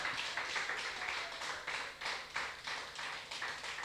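A church congregation claps together in a steady, rhythmic beat during a sermon, the claps blending into a continuous patter.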